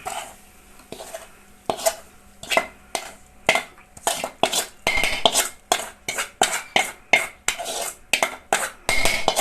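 Ground paste being dropped into cooked jackfruit in a pot, heard as a steady series of sharp spoon and metal-vessel clanks and scrapes, close and fairly loud, with no talking.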